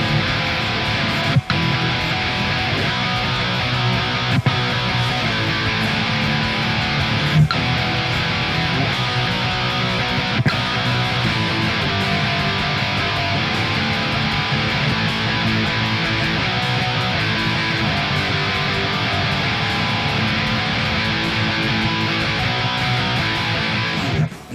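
A full chorus strummed on electric guitar, thick sustained distorted chords ringing continuously with a few sharp chord changes, loud and alone.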